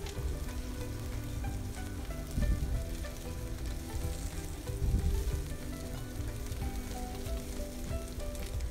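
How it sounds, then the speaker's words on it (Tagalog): Ginataang langka with boiled chicken feet gets stirred in a pan, a soft bubbling sizzle underneath with a few louder spoon scrapes and thumps, no voices. "So, haluin lang natin mabuti."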